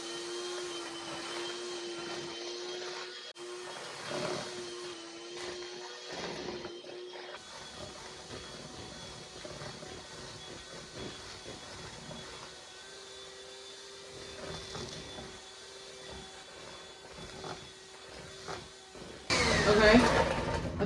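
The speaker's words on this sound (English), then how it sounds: "I'm supposed to beat that with a hand mixer on medium-low speed until combined" An electric hand mixer hums steadily on medium-low speed as it beats butter into a cake batter, its motor whine shifting slightly as the beaters move. Near the end it grows louder and harsher, and a person speaks now and then.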